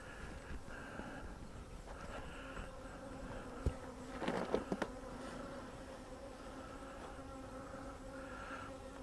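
Bees buzz around beehives in a low, steady drone near the hives, fairly quiet, with a few closer buzzes passing by midway and faint outdoor ambience underneath.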